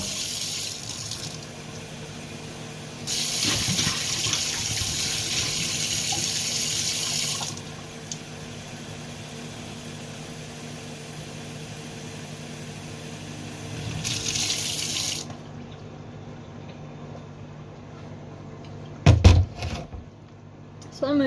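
Water runs from a tap into a sink in two separate bursts, a bright rushing gush that starts and stops, with talking between and a sharp clunk near the end.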